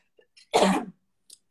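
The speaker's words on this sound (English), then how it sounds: "Sorry, I have cough." A single sharp cough from a woman indoors, loud and close, preceded and followed by faint small throat noises, with no talking during the clip.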